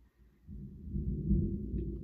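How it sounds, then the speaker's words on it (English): Deep rolling thunder rumbles up from a quiet start and holds loud and low for about a second and a half, heard alone without voices. "I hope you could hear that thunder"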